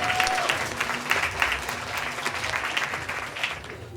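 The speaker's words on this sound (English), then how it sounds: "Let's give her a round of applause." Audience applause at a book release party, a steady wash of clapping from a room of people lasting throughout, fairly close and even in loudness.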